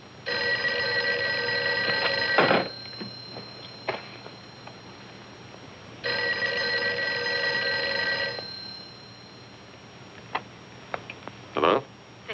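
An old telephone bell rings in a 1948 film noir, two long metallic ringing bursts of about two seconds separated by silence, followed by faint clicks and thumps, fairly close with no speech over it.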